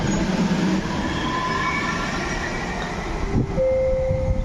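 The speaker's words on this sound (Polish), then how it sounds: "przy peronie pierwszym przejedzie pociąg, bez zatrzymania." A train passes through Łowicz Główny station in Poland without stopping, a loud, close, continuous rumble of wheels on rails with a rising metallic squeal near the end.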